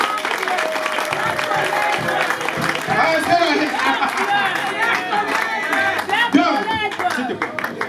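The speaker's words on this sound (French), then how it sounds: "Vous pouvez applaudir, s'il vous plaît" Guests at a customary wedding celebration applauding together, dense steady clapping mixed with crowd chatter and voices calling out, lively and sustained throughout.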